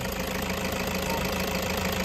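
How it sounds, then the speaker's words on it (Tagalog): A Toyota 2KD diesel engine in a Toyota HiAce Commuter idles steadily with a dense, continuous knocking clatter, close and unbroken, with no one talking. "Makina na ito Toyota 2KD diesel engine"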